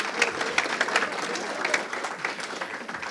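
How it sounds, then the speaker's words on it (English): Audience applause at a press event introducing a women's basketball head coach, steady clapping for about three seconds with a few crisp individual claps standing out and faint voices mixed in. "Yes, that deserves a clap."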